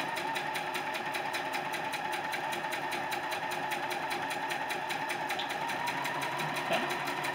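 A sewing machine stitches a quilt seam, its needle chattering in a fast, even rhythm that runs steadily and fairly quietly for over seven seconds with no talking.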